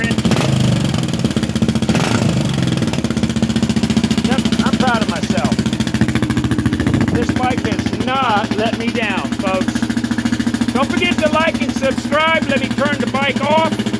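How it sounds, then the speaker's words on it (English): A Kawasaki KLR 650 single-cylinder engine thumps steadily at idle, close and loud, a rhythmic pulsing beat running throughout while someone talks over it. "That is a thumper, baby. Listen to that bike run, man."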